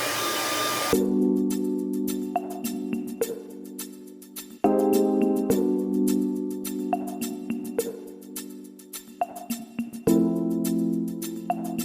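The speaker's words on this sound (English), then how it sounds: "I'm using the household dryer, so I can get this job done in a day" A hair dryer whirs steadily close by drying a drywall patch, its tone shifting as it cuts in and out with brief clicks between runs.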